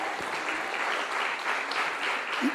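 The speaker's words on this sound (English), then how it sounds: "You can clap for that." Steady applause from a church congregation, a continuous wash of clapping at moderate volume with no break across the whole stretch.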